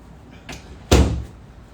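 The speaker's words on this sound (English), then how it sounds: "I'm gonna shut this door behind me." A door is shut in a home basement with one sharp, loud slam, preceded by a softer handling sound; no one talks.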